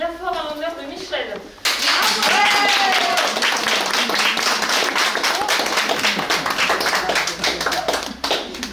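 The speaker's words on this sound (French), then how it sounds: "Et je vous demande d'applaudir bien fort en l'honneur de Michel." A voice speaks briefly before an audience breaks into loud, sustained applause with distinct rhythmic clapping from many hands, continuing steadily to the end with some cheering underneath.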